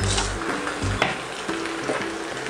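Green beans and pechay sizzle in a pan seasoned with pepper and fish sauce, while a utensil stirs through them in a few scraping strokes over the constant frying hiss.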